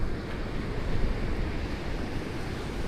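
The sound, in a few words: ocean waves breaking on a beach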